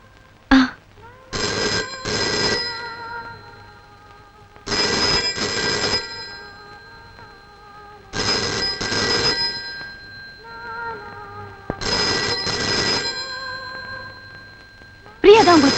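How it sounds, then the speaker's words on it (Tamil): Telephone bell rings in repeated bursts of about a second each, roughly every three seconds, loud and close, with quiet gaps and faint talk between rings in a tense family scene from a Tamil film. "போன் அடிச்சுக்கிட்டே இருக்கு, யாரும் எடுக்கல."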